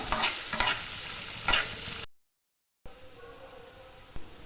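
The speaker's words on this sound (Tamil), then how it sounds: "வெங்காயம் வதங்குறதுக்காக கொஞ்சம் உப்பு போட்டு நம்ம நல்லா வதக்கி விட்டுடலாம்" Chopped onions sautéed with salt in a pan for a Tamil-style egg curry give loud, close sizzling and stirring, which cuts to a brief silence and then returns as quieter, steady frying.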